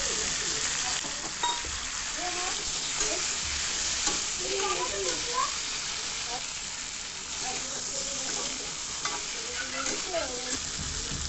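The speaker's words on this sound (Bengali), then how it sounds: "তারপর এবারে আমি দিয়ে দেবো এখানে এই আদা বাটাটা" Ginger paste sizzles and fries in a pan for a Bengali vegetarian curry of beans, eggplant, potato and bori, with continuous hissing and repeated scraping stirs close by.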